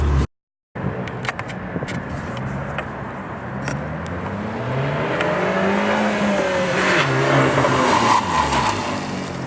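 A 2013 Fiat 500 Abarth's turbocharged engine revs and accelerates with a rising turbo whine and tire noise, loud and close, after a brief silent gap.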